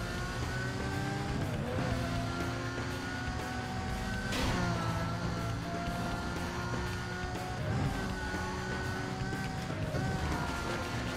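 Cars race in the video game Need for Speed Most Wanted, with engines revving and shifting through gears continuously, occasional tire noise and a constant dense roar of motors.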